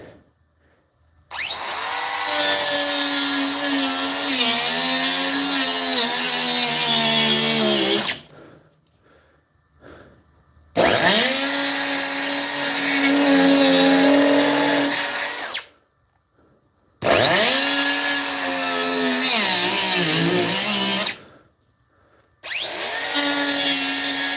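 A Dewalt 20V DCS438 cordless cut-off tool with a 3-inch blade makes four loud, sustained high-pitched cutting bursts, each several seconds long, separated by short silences.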